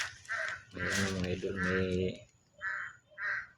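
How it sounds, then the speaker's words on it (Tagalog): A crow caws from a mango tree in a handful of short, harsh calls at the start and end, while someone speaks over the middle. "isang ibon na tinatawag na uwak"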